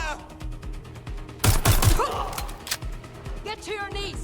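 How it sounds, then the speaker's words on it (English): Gunfire erupts in the Watch Dogs Legion video game, a sudden burst of loud, overlapping shots with sharp impacts over steady background game sound, followed by scattered echoes and effects. "Suspect is shooting! I'm taking fire!"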